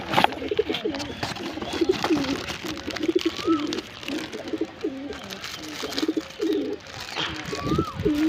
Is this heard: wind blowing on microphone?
no